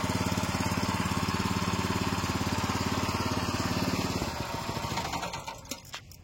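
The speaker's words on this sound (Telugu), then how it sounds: "ఇప్పుడు మనం ఇంజన్ స్టార్ట్ చేసినాం" A Labdhi Arjun 7hp power weeder engine runs with a fast, regular chugging beat, loud and steady at first, then it drops and grows rougher and quieter near the end.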